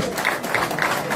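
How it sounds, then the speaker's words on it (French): An audience at a press conference claps for an artist, a short burst of dense applause from a crowd nearby, with faint voices beneath. "merci on applaudit l'artiste pour cette réflexion"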